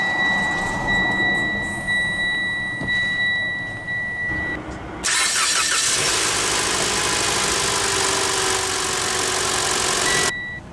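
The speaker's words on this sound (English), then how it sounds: "let's go ahead and start the engine" A 2022 Mitsubishi Outlander Sport SE AWD engine cranks by push-button ignition and catches about halfway through, then settles into a steady, loud idle, with a faint electronic chime earlier.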